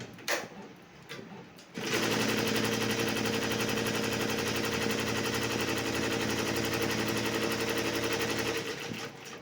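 An embroidery machine, started with a green button, stitches a half-sleeve design. A few faint clicks come first, then a loud, fast, steady mechanical rattle of needle strokes runs close and continuous until it stops near the end.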